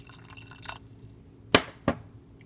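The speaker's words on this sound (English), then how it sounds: "Add a little bit of water" Water poured into a pan of vegetarian egg curry with red pepper, giving two short, close splashes in quick succession after a brief quiet stretch, with no talking.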